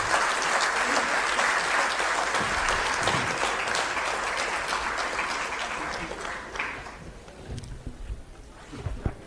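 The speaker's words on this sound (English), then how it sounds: "Can we have a round of applause," A room of guests applauds at a book launch honouring a political leader, dense clapping that starts loud, slowly thins out and ends in a few scattered claps.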